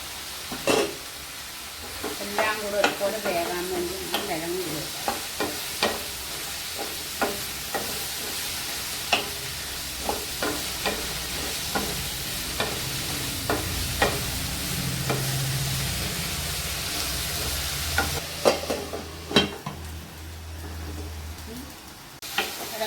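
Beef peralan with potatoes frying in a pan in Kerala style, a steady low sizzle under repeated scraping and knocking strokes of a spoon stirring, close and moderately quiet, with no speech.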